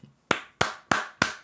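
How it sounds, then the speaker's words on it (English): Four sharp, evenly spaced claps about a third of a second apart, each a crisp broadband burst with a short decay, close and fairly loud with no talking. "what if people just start standing up, clapping?"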